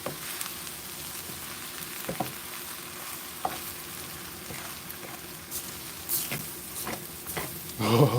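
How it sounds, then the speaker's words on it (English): Spaghetti sauce sizzles steadily in a pan with butter and garlic salt, with scattered scrapes and taps from stirring; the frying grows louder and busier toward the end. "We better stir the sauce."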